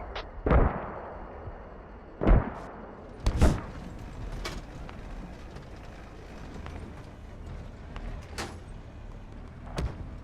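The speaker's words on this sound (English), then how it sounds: "They are now mortaring checkpoint as well." Mortar rounds landing in the game Squad during a desert battle, heard as four or five heavy booms spread across the clip, some near and loud, others more distant, over a low rumbling background.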